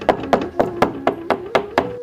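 Someone knocks on a door in a cartoon, eight crisp, evenly spaced wooden knocks in quick succession, close and clear with nothing else around them.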